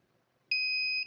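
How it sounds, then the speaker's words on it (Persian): A DVR being checked for a hard drive it does not recognise sounds a single steady electronic alarm beep, a clean high tone lasting about half a second after near silence, close and clear. "میبینید که بوق DVR هم آلارمش زده شد"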